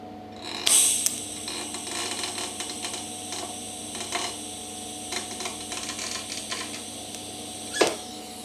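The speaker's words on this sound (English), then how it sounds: "time to weld" Welding on thin brake line metal during a car project gives a steady, close crackling sizzle with small irregular pops. It runs continuously for several seconds over a faint background hum, with no talking.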